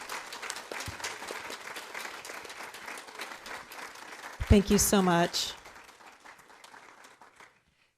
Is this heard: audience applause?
yes